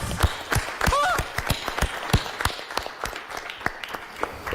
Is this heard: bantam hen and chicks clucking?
no